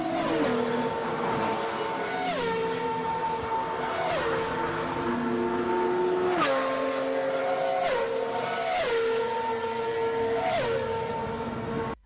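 F1 and GT race cars on a circuit, engines screaming past one after another at regular intervals, each pitch sweeping down as it passes, loud and continuous with no talk.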